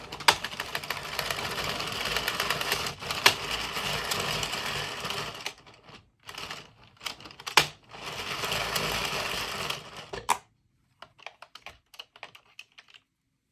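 A Sentro knitting machine is cranked round with no yarn fed in to release the work, giving a busy rapid clicking rattle in long bursts with short pauses, then a few scattered faint clicks at the end.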